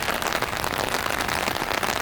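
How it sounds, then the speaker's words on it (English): Steady, consistent rain patters densely on surfaces during an outdoor walk, an even, unbroken wash of drops with no voices heard. "It's not a crazy rain. It's just like a nice sort of steady, consistent rain."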